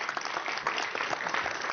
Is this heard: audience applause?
yes